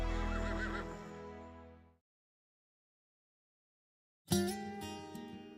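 Two loud, close racehorse whinnies on race day, the first trailing off into silence and the second rising sharply after a two-second gap, with no talking.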